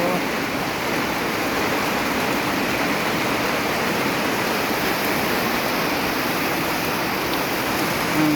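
Water rushes steadily into a rice paddy field in rural Laos, a dense, continuous close-up flow of broadband splashing that stays even and unbroken throughout.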